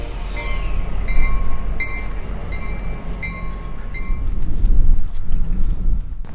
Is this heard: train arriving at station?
yes